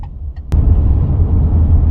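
A 2017 Subaru Outback diesel on 18-inch wheels cruising at around 70, with loud, steady low engine and road rumble heard from inside the cabin after a short click.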